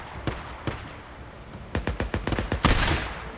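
Rapid gunfire in the video game Days Gone, a few separate shots followed by a quick burst of close, sharp cracks, with no talk over them.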